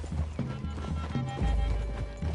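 Horse hooves on the ground in Red Dead Redemption 2, a short stretch of thudding steps with a possible snort, mixed with game ambience and a low rumble.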